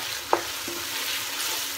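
Ginger, garlic and green chili sizzle in a pan, a soft steady crackle of frying with a light clink of a utensil early on, no voices.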